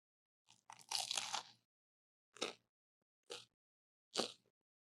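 Someone bites into a crispy toasted bun on a sandwich with harissa aioli and tapenade: a long loud crunch, then three shorter crunchy chews with pauses between, close to the ear, with no talking over them.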